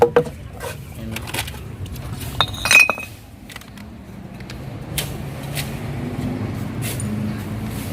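Old glass bottles dug from a dump clink and knock together in a few sharp, bright hits early on, with scattered handling noise, outdoor background and some talk around them.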